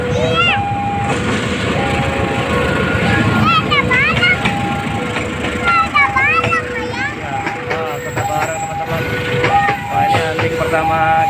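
A long freight train rumbles and clatters past at close range in Indonesia, with horn blasts and squealing wheels, while people talk over the noise.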